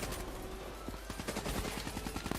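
Rapid automatic gunfire in Call of Duty Black Ops III, with dense bursts of shots cracking over a busy game mix and no talk.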